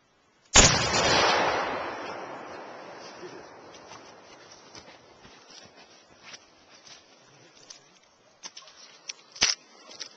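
A single loud black powder rifle shot booms close by, then a long rolling decay fading over several seconds, followed by faint footsteps and handling noises.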